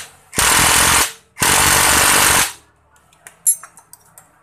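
Two loud bursts from a pneumatic or electric impact tool tighten bolts on a Yamaha MX King 150cc engine, each lasting about a second, followed by faint clicks and small metallic taps.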